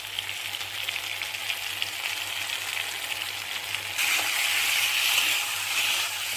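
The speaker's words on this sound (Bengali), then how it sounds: "লঙ্কা গুঁড়োটাকেও ভালো করে ভেজে নিতে হবে এরকম করে।" Chili powder and spices fry in a pan with a faint, steady sizzle that grows brighter and louder partway through, heard alone without talk.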